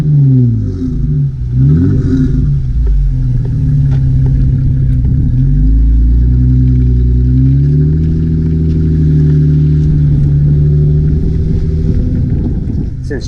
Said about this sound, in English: pay attention to the exhaust note if you're interested in an upgrade for your JLU or JKU